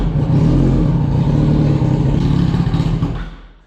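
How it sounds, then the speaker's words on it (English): 2004 Yamaha R1 sport motorcycle, a wrecked bike being rebuilt, sputters roughly as throttle is given, a loud uneven engine clatter that fades out and dies at the end. "It does run, however when I go to give it throttle it kind of sputters, and then dies out"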